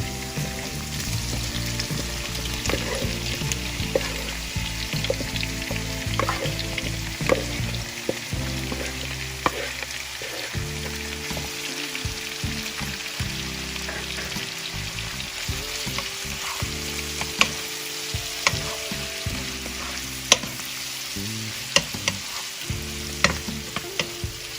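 Shrimp fry in a pan with sweet pepper, a steady sizzle running throughout with repeated stirring clatters and scrapes of a utensil against the pan, close and without voices.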